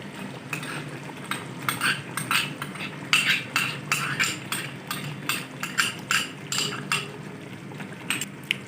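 A metal spoon clinks and scrapes rhythmically against a pot while cream is mixed into chicken karahi, steady close knocks and stirring scrapes over a faint background hum, no talking.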